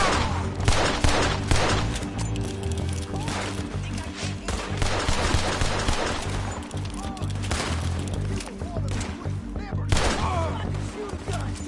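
Gunfire in a shootout in Red Dead Redemption 2, dense, loud volleys of overlapping shots cracking continuously, with voices shouting in between.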